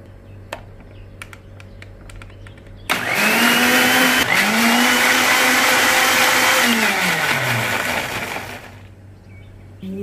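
Kitchen blender pureeing pandan leaves with water, starting abruptly after a quiet stretch with faint clicks, then a loud steady whirring motor that dips in pitch as it churns and cuts off near the end.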